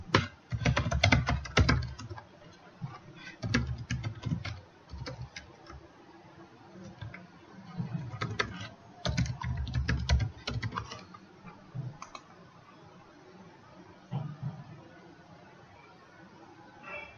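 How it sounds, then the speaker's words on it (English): Typing on a computer keyboard, clusters of quick, close key clicks with pauses between bursts, fairly quiet and alone. "So let me just type here."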